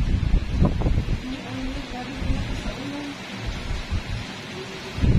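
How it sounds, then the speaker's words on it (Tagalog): Heavy rain pours down steadily, a dense broadband hiss with low rumbles, while people talk quietly over it throughout. "Ang lakas ng ulan mga kalugit, my God."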